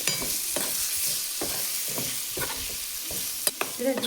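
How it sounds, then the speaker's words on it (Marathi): Prawns frying in a pan with onion, tomato and ginger-garlic paste in a black masala, stirred in steady repeated scrapes over a constant close sizzle, with no talk. "आता कोळंबी टाकून घेते कांदे मिक्स करून घेते"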